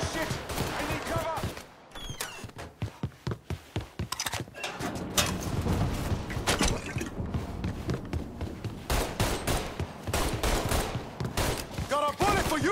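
Gunfire rattles through a Mafia III shootout, with rapid machine-gun bursts and scattered single shots packed densely and loud throughout, and voices shouting among the shots.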